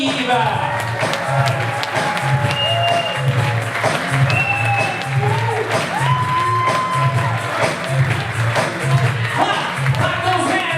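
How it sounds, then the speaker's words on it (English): Wedding reception guests clap along to a beat in a lively hall, with rhythmic claps and cheering mixed under music and an announcer's voice. "Clap those hands! We'll ask everybody to please stand up. Keep the beat going there."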